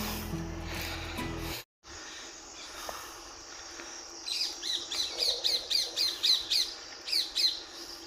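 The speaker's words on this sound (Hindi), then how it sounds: "नेचुरल पक्षियों की आवाज़ें, नेचर की आवाज़ें आप सुनिए" Birds call in the morning countryside beside a village road, with one bird's harsh, repeated squawks pulsing in a steady rhythm close by after a muffled rumble cuts out.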